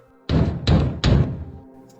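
Three loud, heavy knocks on a door in even succession, each a deep booming thud with a short ringing tail, close and alone in an otherwise quiet room.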